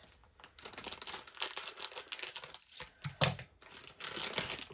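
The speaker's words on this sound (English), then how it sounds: "Pardon my crinkling here." Dollar Tree plastic packaging for a Halloween decoration craft is crinkled by hand close up, giving irregular crackly rustling bursts with short pauses and no voices.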